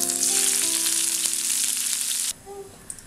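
Curry leaves crackle and sizzle loudly in hot oil used for bitter gourd chips, a dense spitting hiss that stops abruptly after about two seconds, leaving faint soft clinks, no talk.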